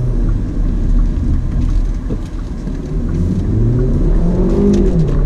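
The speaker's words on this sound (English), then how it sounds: "Downshifts, you could hear I'm using the paddles." A loud 2019 Hyundai Elantra GT N Line engine revs continuously, its pitch dipping and climbing again with quick paddle-shift downshifts under a steady roaring rumble, with no talking.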